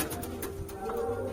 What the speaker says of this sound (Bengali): এটা একটা কালদম ম্যাডাস কবুতর আছে